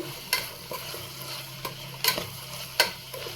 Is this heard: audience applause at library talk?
no